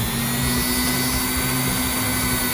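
A freshly cleaned slot car motor armature from an Aurora Maserati spins with a steady, close electric whine and buzz, held constant and unbroken through the moment.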